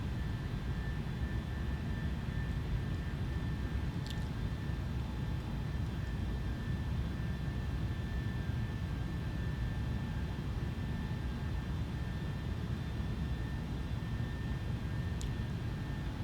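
Airbus A310 jet on glide-slope approach into Frankfurt in MSFS 2020, a steady, dense engine roar with a faint high whine holding constant throughout, with no break or change in level.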